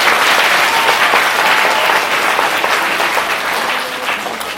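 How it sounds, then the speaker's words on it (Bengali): Loud, sustained applause from a school audience for a magician at a Ramakrishna Math magic show in Antpur, a dense wash of clapping that holds steady for several seconds before easing slightly. "ওনার জন্য একটা জোরে প্রথমেই হাততালি"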